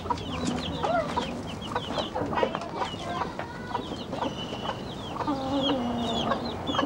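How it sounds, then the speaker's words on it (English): Several chickens cluck and chatter continuously at close range, overlapping calls with occasional louder squawks over a busy farmyard background. "she looks after the chickens"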